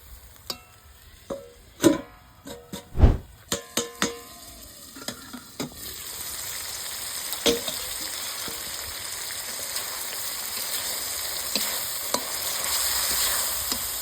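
Onion and tomato masala being stirred in a pan for an egg curry, with a few sharp spoon knocks and scrapes at first, then a steady wet sizzle after water is added.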